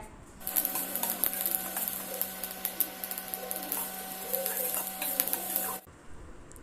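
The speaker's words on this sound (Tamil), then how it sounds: "எள்ளு பொரியறப்ப உங்களுக்கு நல்லா சவுண்டு கேட்குங்க" Sesame seeds dry-roasting in a pan, a dense steady crackle and rapid popping with a constant hiss throughout, loud and close, until it stops abruptly near the end.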